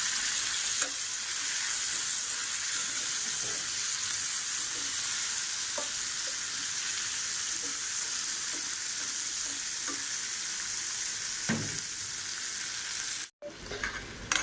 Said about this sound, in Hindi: अब इन्हें फ्राई कर लेती हूँ थोड़ी देर